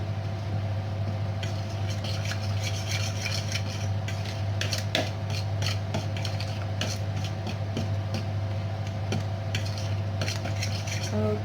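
Half-fried potato being stirred and mixed with utensils in a bowl or pan for a tuna potato omelette, giving steady scraping and clinking with soft repeated strokes over a constant low hum.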